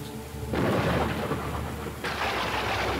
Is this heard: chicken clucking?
no